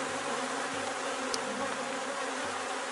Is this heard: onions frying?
no